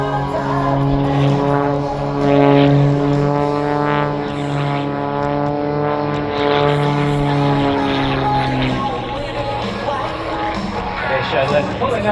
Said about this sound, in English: Please welcome Paul Bennet and the Wolf Jet Pro.